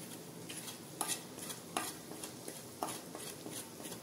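Spice masala of turmeric, salt and chili powder being sautéed in oil in a pan, with a soft continuous sizzle and several sharp scraping strokes of a spoon against the pan at irregular intervals.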